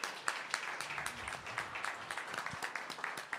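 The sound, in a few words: audience applause after debate closing statements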